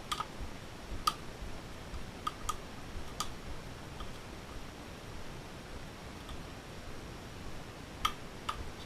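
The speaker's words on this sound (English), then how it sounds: "the popping and clicking, a lot of that is where the pins are pressing down and they're popping back up." The pins of an Abus Pfaffenhain lock cylinder give faint, scattered clicks and ticks as it is picked, irregular and close over steady background hiss.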